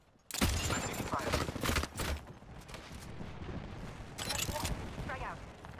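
Gunfire in the battle game Apex Legends, loud bursts of rapid shots in two clusters with a gap of quieter action between, close and dense.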